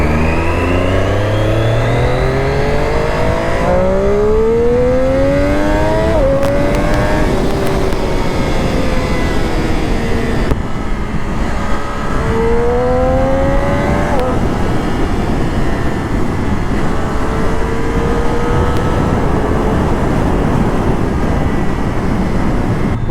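A Triumph Daytona 675R sport motorcycle with a quick shifter revs hard and accelerates close by, its engine note climbing in repeated rising sweeps through the gears, loud and continuous.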